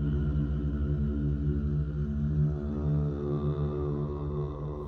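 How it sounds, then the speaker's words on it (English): A dense, washed-out music mix drenched in heavy reverb, sustained tones smearing together into a continuous loud wall of sound with no clear breaks. "using too much or the wrong kind of reverb can ruin your mix"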